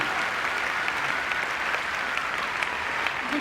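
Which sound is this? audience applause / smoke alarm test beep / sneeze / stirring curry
audience applause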